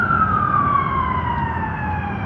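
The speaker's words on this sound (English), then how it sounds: "Oh, some ambulances going by" An ambulance siren wails in a long, slowly falling tone as it passes along a Montreal street between metro stations, loud over low traffic rumble.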